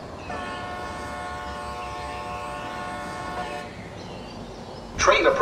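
MBTA F40PH-3C commuter rail locomotive arriving at Sharon station in Roblox, its horn sounding one long sustained blast over the rumble of the train, then fading into rolling noise with a sharp clatter near the end.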